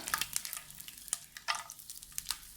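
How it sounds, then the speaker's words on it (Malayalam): Shallots and cashew nuts fry in oil for a Chettinad egg curry, with close crackling, spitting sizzle and bright pops, uneven and a little sharp, and no talk. "ഇത് ഒരു 1-2 മിനിറ്റ് നമുക്ക് ഈ എണ്ണയിലൊന്ന് മൂപ്പിച്ചെടുക്കണം."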